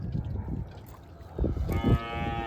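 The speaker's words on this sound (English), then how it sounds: "Cattle are shaping up real good." Cattle on a farm moo once or twice, a low drawn-out call swelling near the end over faint outdoor background, with no talking.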